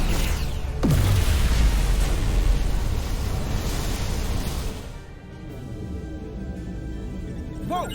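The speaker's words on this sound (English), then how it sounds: "Dilithium explosion." A dilithium crystal blows up in the Star Trek Resurgence video game with a sudden deep boom, then a long roaring, rushing wash of noise that slowly thins out into quieter rumble.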